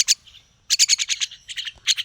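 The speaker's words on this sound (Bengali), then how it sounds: "পাখিগুলো মাথার উপর বসে আছে।" Small birds perched on a person's head chirp in quick, bright bursts very close by, a rapid run of high tweets after a short pause, with no talking.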